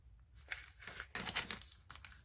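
Stiff paper being folded and creased into a pocket envelope, several crinkling rustles and sharp creasing swipes close by, in bursts separated by brief pauses.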